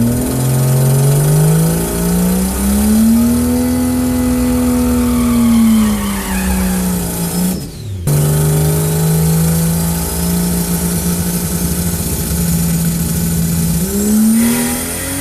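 A Toyota Supra race car roars loudly down a drag strip, pitch climbing steadily as it accelerates, with a brief cut around the middle before it revs up again.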